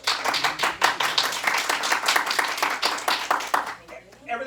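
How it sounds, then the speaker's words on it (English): A small group claps in close, distinct, rapid claps that fade out near the end as someone starts talking. "How about a round of applause for Lawrence?"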